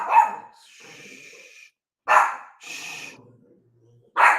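An indoor dog gives three loud, sharp barks spaced about two seconds apart, and a person hushes it with drawn-out hissing shushes in the gaps between barks.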